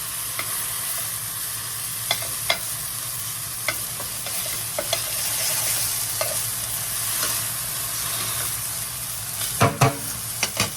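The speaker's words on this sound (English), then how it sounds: "Okay, I'm going to give these a flip. And we're going to let the other side get nice and brown." Pork chops sear in a pan after being flipped, giving a steady close frying sizzle with occasional scrape-like clicks and a louder burst of crackle near the end; no voices.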